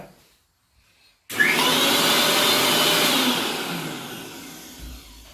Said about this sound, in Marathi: हे आपण मिक्सरमध्ये पिसून घेऊया